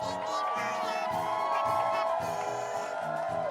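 An animated crowd in a 3D Mario-style game cheers and whoops steadily over bright sung tones, a dense, continuous roar with no spoken words.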